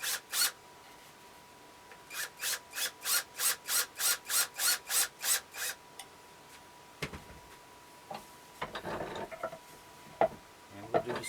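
A 1 5/8 inch screw driven into wood on a carved wooden ventriloquist figure: a steady run of about a dozen evenly spaced, rasping ratchet-like bursts, close and loud, followed by scattered handling clatter.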